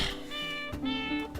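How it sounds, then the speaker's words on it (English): Cat meowing sound effect played by a stream bot, two clear meows in quick succession, loud and close, with a short gap between them. "So prepare for more meowing."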